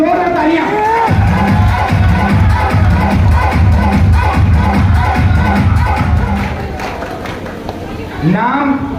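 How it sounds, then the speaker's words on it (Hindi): A crowd at a seminar celebration in Manesar claps in a strong, fast, regular rhythm that carries on for several seconds before fading, with voices over the clapping. "दिल से तालियां होनी चाहिए और जबरदस्त तरीके से तालियां होनी चाहिए"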